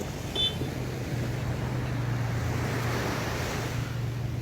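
Steady rushing of sea waves at Blue Lagoon Beach in Pagudpud, with wind buffeting the microphone, a continuous broad wash of surf and a brief faint beep near the start.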